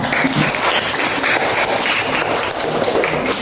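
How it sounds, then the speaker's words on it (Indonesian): Classmates in a school lesson clap for a student named Artizar, a brief burst of close, dense applause from a small group. "Jadi aplaus dulu untuk Artizar"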